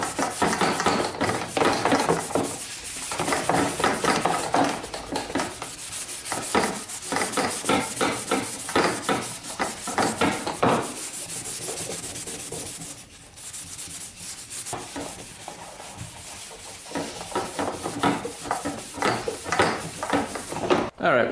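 Plastic ATV body panels are scrubbed vigorously after a squirt of WD-40, a close, loud rasping scrub in rapid strokes with brief pauses and a few knocks.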